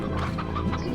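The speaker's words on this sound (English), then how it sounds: "There's a chickie!" Chickens cluck in short, repeated bursts in the video game Slime Rancher, a brief, close, busy flurry over a steady low background hum.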